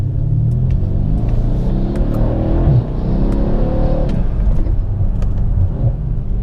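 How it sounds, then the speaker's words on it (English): A Mercedes-Benz W212 E63 AMG accelerates hard, heard from inside the car as a loud, continuous rumbling engine roar with rising turbo intake whoosh and faint clicks scattered throughout. "you could hear those intakes spooling, the intake noise from the turbos"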